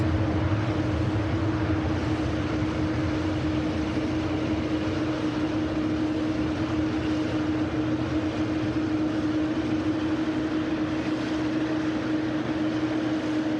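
A British Airways jet departing Manchester Airport roars steadily from a distance, a continuous engine drone with a sustained tonal hum and no voices.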